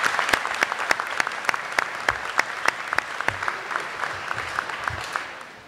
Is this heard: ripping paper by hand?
no